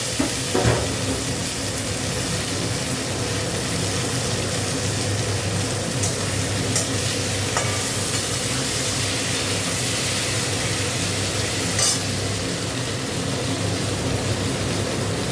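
Tomato dropped into a hot pan of oil for a fish curry, frying with a steady, loud broadband sizzle that runs the whole time, with a few faint clinks of a utensil stirring near the start and later on.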